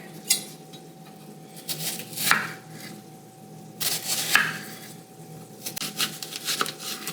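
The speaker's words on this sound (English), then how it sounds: "then I'm gonna cut towards the root here." Kitchen knife slicing through a halved onion on a wooden cutting board toward the root, giving a few short, quiet cutting strokes and scrapes spaced out over several seconds with no talk.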